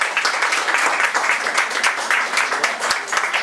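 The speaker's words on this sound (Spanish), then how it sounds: "un fuerte aplauso para todos" Audience applause at a poetry festival round-table panel in Boedo, a steady wash of dense clapping holding evenly for a few seconds, fairly close and loud.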